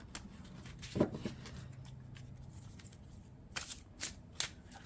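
Tarot cards shuffle in short riffling bursts, one near the start and several quick ones toward the end, close and fairly quiet with no talking.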